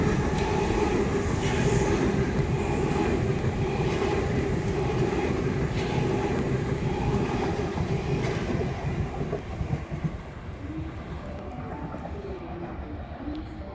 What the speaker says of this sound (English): we'll have an 8-car Waratah Series 1 on a central service.